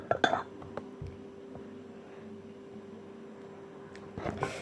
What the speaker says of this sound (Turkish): Şimdi ben bir de tatlı kaşığı alayım.